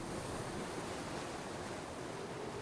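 Sea waves surge and wash steadily under a rising southerly wind around a barge, a continuous broadband roar of surf and gusting air with no pauses, fairly close and moderately loud.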